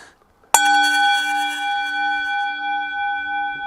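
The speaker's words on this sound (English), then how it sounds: "Here goes the bell." A meditation bell rung once after a brief silence, giving a sharp strike and then a clear, pure ringing tone that sustains and slowly wavers as it fades, loud and close with no voices.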